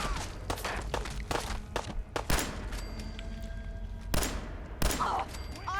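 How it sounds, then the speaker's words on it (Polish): Gunfire in the game Fallout 4, a string of loud, sharp shots in quick bursts with irregular spacing and a few heavy thuds between them, over constant background noise. "Jeszcze ktoś strzela"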